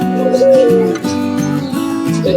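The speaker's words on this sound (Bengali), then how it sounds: "এই যে ভাইয়া দেখতে পারতেছেন এইগুলো হচ্ছে আপনার ঘুঘু" Doves kept on a village bird farm in Bangladesh coo in repeated soft, low rounded phrases, close and clear with no talk over them.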